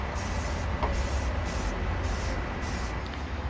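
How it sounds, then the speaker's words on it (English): Primer sprayed from an aerosol can into the engine bay of a 1988 Honda Civic Wagon, a steady close hiss in several bursts with brief gaps between passes and no talking. "So we're going to primer this and then we'll spray the silver flake over it."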